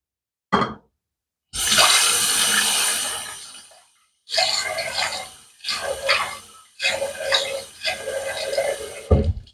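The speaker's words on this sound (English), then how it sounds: "let's get water on the face" Tap water runs into a sink while someone wets their face before shaving, heard as several loud splashing, rushing bursts separated by short pauses.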